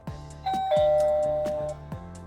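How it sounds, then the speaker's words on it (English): A Tapo front door doorbell chime plays indoors, a clear electronic two-tone ding-dong ringing out over a soft repeated tapping, loud and close, fading after about a second and a half. "when someone rings my doorbell"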